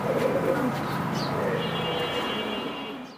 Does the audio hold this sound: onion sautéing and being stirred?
no